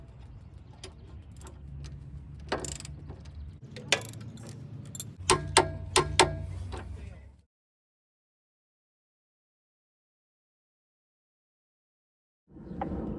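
A torque wrench tightens a Tesla Model 3 or Y lateral link to the strut with a run of sharp ratcheting clicks and metallic taps. Silence follows, then a short burst of rustling noise.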